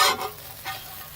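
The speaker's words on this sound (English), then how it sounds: "We have some walleye, pan sautéed, or pan-seared walleye in a cast iron pan." Walleye fillet searing in a cast iron pan over a campfire, a short burst of sizzle and stirring noise that fades quickly with a second faint hiss, close by with no talking.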